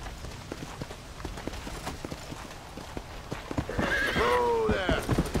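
A horse in the Red Dead Redemption: Undead Nightmare game clip-clops along at a steady run, then lets out a loud, drawn-out whinny near the end, with someone talking over the hoofbeats.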